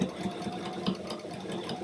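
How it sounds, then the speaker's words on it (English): A sewing machine backstitches over lace, its motor giving a steady, close whir with a light rhythmic stitching pulse throughout and no talking. "I am going to backstitch over where I put the lace"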